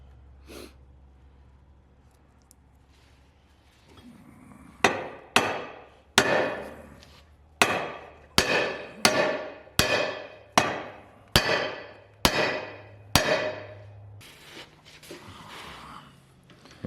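A U-joint is hammered into the drive shaft of a junkyard 6.0 swapped S10 drag truck, ten hard metallic blows at a steady rhythm, loud and close, after a quiet stretch with a brief snort.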